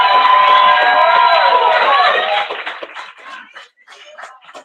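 A poetry slam crowd cheers and shouts for a rookie poet, loud whooping voices dominating the first half before fading into scattered calls, laughter and chatter.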